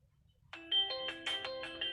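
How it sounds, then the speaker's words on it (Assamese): A mobile phone rings with an incoming call, playing a bright melodic ringtone of short rising notes that starts abruptly and sounds close and clear, with no voices. "মোবাইলে মানুহ ফোন কৰিছে"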